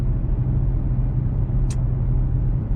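Steady low engine and road rumble from inside a Chrysler 300 cruising in regular drive, close and even throughout with a brief faint click near the middle and no speech.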